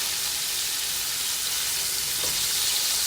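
Liver frying in a pan for liver and onions with brown gravy, giving off a steady, close, even sizzle and hiss throughout with no talking.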